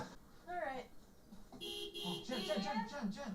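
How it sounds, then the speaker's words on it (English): A car horn honks repeatedly in a scene from the She-Hulk: Attorney at Law episode "The Retreat", sounding steady and fairly loud, with people talking over it throughout. "You're honking your horn at a 10-foot tall lizard monster."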